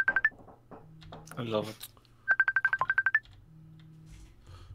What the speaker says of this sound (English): Gotta catch a phone call.